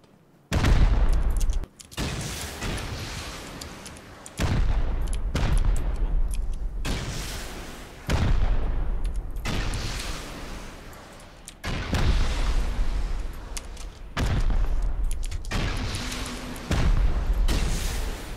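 Heavy gunfire and booming explosions during a base raid in the survival video game Rust, loud repeated bursts of several seconds each separated by short pauses, with sustained rumbling shots.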